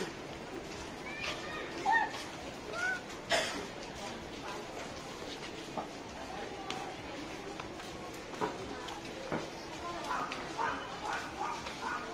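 A dog barks and yips in scattered short bursts at moderate distance in a busy outdoor setting, with people talking nearby throughout.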